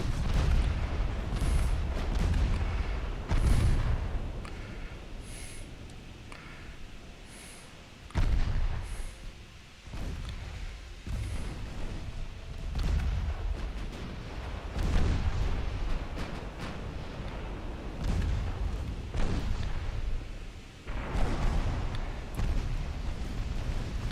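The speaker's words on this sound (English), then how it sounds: "We're going to fire on a battleship, or on the focus on the other cruiser." Heavy warship guns fire during a naval battle in Ultimate Admiral Dreadnoughts. Deep booming salvos repeat at irregular intervals over a constant low rumble of engines and sea.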